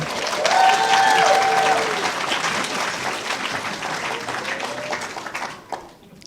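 Audience applause at a UCLA School of Nursing ceremony honouring award recipients: dense, sustained clapping from a crowd, loudest early and slowly thinning before fading out near the end.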